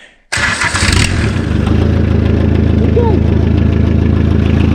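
A Motobécane Pony moped fires up on a cold morning after a freezing night. After a brief moment of quiet, the engine catches abruptly and settles into a loud, steady, close-up idle with a rapid buzzing putter.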